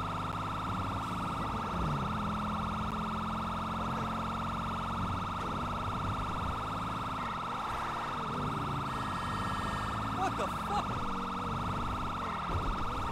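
Police car siren in the Grand Theft Auto V São Paulo civil police mod, driving a customized patrol car through Los Santos traffic, a faint steady wail running throughout under engine and game noise.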